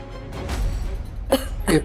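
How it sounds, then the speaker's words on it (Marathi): A person coughs twice, short and harsh, close by, following a stretch of muffled background noise. "अचानक कसा खोकला आला तुला?"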